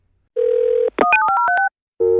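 A telephone dial tone sounds as a steady hum, then a quick run of keypad beeps follows, and the tone resumes, all clean and close.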